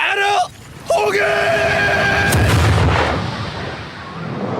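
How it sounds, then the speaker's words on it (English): An explosion in the JoJo's Bizarre Adventure: Stardust Crusaders anime, a sudden loud boom bursting over music and dramatic voices, followed by rumbling debris that slowly fades while characters react. "The explosion, the way it was done and their reaction to it happening."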